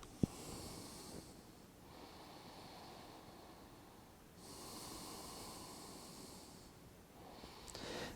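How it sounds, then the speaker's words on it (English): Slow, audible breaths during a yoga class, two long exhalation-like swells of airy noise with a pause between, close and fairly quiet, no talking. "Breathe."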